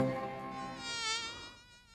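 Small bee flying back near a man, a thin high buzzing whine with steady harmonics, close and quiet, fading slightly at the end, no talk.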